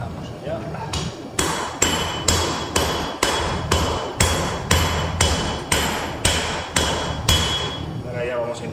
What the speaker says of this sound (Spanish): es tan fácil como enderezar eso a martillo otra vez y ya está